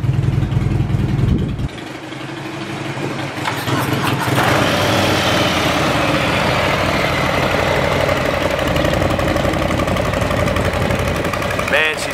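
A 2022 Harley-Davidson Low Rider ST motorcycle engine, loud and close, settling from a deep rumble into a steady idle, with people talking nearby.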